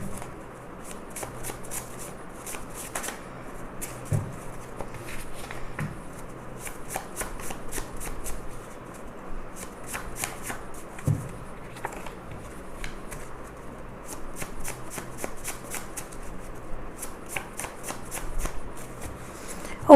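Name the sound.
shuffling tarot cards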